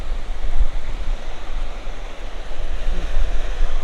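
Sea waves washing onto a rocky beach at Bheemili near Vizag, with a loud continuous surf roar that swells and recedes in rolling surges, mixed with wind noise.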